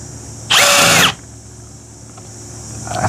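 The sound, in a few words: power drill drilling during RV glass door replacement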